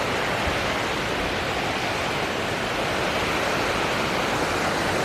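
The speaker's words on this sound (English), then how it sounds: "before the waterfall, I think the creek is pretty calm." Creek water rushes over rocks on a rough stretch near a waterfall, a dense, steady roar close by with no pauses and no voices.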